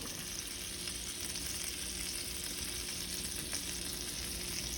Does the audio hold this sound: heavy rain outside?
no